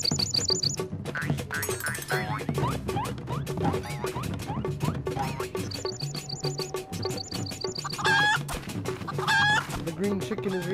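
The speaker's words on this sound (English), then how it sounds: "The green chicken is reacting to the dance." A green chicken in a video game clucks and squawks in quick repeated bursts, with higher chirps and crowing-like calls, loud and close over a busy game soundscape.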